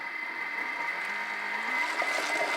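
A Thermomix blends ketchup while ramping up to speed 10. Its motor gives a steady whirring whine, with a tone that slowly rises and grows slightly louder as the blades speed up.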